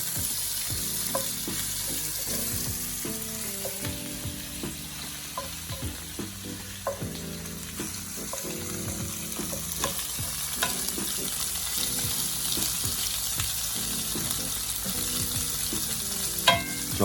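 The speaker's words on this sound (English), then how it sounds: "Got my pan on, and you're gonna see how great these shrimp turn out" Shrimp laid flat in a hot pan fry with a steady, dense sizzle that holds evenly throughout, with light stirring and clinks from the pan.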